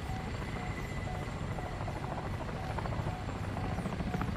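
A helicopter's rotor in the video game War Thunder thrums steadily at a distance, a continuous rhythmic chop with a faint engine whine, no voices.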